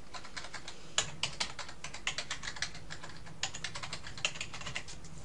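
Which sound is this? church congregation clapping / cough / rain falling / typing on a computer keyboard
typing on a computer keyboard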